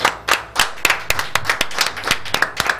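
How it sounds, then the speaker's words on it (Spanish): Audience applause at a comedy show, a fairly small crowd clapping in a clear, somewhat uneven rhythm of distinct hand claps, close and lively, without talk over it. "Este aplauso para vos."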